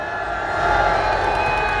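A rally crowd cheers and claps after a musical performance, a brief burst of broad, sustained crowd noise that swells slightly toward the end.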